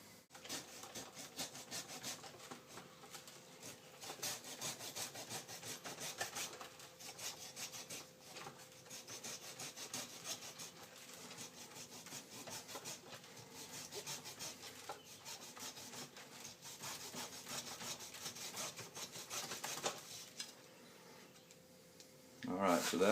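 A handsaw cuts into a bonsai trunk with a steady, continuous rasp of back-and-forth strokes, close and fairly quiet, running nearly the whole time.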